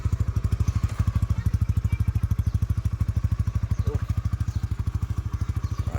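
Winner X 150 motorcycle engine idling steadily with a fast, even, throbbing putter, heard up close and alone at a moderate level throughout.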